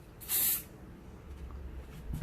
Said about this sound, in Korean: 그리고 스프레이를, 마무리 스프레이를 뿌립니다.